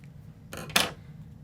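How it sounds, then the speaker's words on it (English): Scissors snipping ribbon on a handmade decorative-border card, one or two quick close cuts with a short metallic rub, alone in a quiet room. "All right, let's snip that off."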